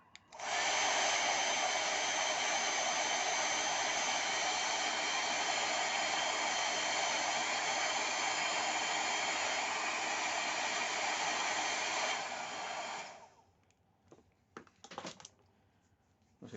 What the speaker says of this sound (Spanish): Voy a hacerlo con el secador.